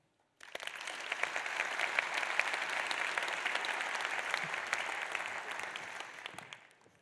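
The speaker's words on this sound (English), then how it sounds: "please give a warm applause, a big applause, to His Excellency," Applause from a conference audience at the ICT&health World Conference greeting governor Emile Roemer: many hands clapping in a dense, steady roar that begins abruptly after a brief silence, holds evenly, then tapers off at the end.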